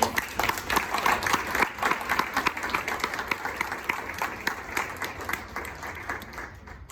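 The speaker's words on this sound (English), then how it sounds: "These people, a round of applause, please" An audience at a fall honor-society induction ceremony claps for the executive board lined up at the front, a steady, moderately loud round of applause that slowly thins toward the end.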